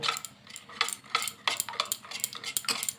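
Semolina batter is whisked in a bowl, and the utensil knocks against the bowl's side in quick, uneven, rhythmic clicks and scrapes, close up and with no talking.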